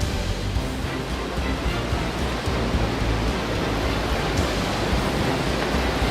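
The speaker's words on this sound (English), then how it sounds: "Dedifoss, the biggest European waterfall with a flow rate of 200 cubic meters per second, bottoms out into a 44-meter canyon." Dettifoss, Europe's biggest waterfall, pours about 200 cubic meters of water per second into a 44-meter canyon, giving a steady, dense roar that stays loud and unbroken throughout with no voices.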